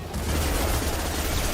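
Dense, continuous gunfire from a firefight in the video game Mass Effect 2, a loud unbroken barrage of overlapping shots and rumbling impacts with no voices.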